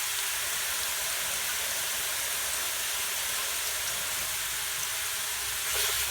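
Food sizzles steadily in olive oil in a pan, a close, constant broadband hiss with no breaks and a slight swell near the end.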